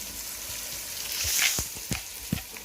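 Kai Si Ming ingredients sweat in a pan over medium heat, giving a soft, steady sizzle with a few brief stirring knocks and scrapes close by.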